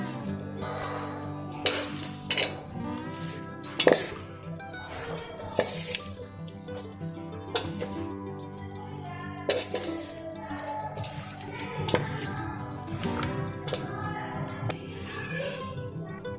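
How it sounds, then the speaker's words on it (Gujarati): Spoon scraping and clinking in a bowl as Punjabi pickle is stirred together with lemon juice, giving irregular close taps and scrapes over a soft background with faint music-like tones. "હવે બધું જ ફરી મિક્સ કરી લઈએ."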